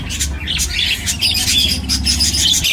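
Small birds chirp and squawk rapidly in overlapping bursts, close by, over a low steady hum.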